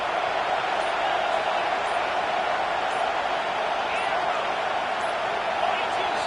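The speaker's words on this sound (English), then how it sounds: "This crowd knows when to bring it." Stadium crowd in an NCAA college football video game, a loud, dense, unbroken roar that holds steady throughout.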